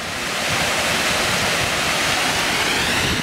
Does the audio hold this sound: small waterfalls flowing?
yes